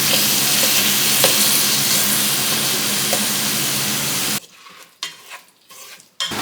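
Ground beef sizzles loudly in a hot pan for taco filling while being stirred and broken apart, a continuous frying hiss with scraping that cuts off abruptly, leaving a few quieter clinks and shuffles.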